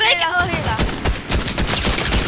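Rapid gunfire bursts in a Fortnite match crackle loud and close in quick repeated volleys, while players' voices and excited exclamations overlap the shooting at the start.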